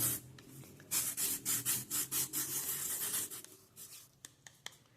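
A jar lid's edge being sanded round by hand, a close series of about ten rhythmic rasping strokes, then a pause and a few lighter scratches, with no talking.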